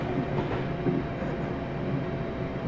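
A steady rumble of a train running on the Rugby to Stafford stopping service in the Train Simulator 2018 game, with continuous rolling track noise and no distinct braking squeal.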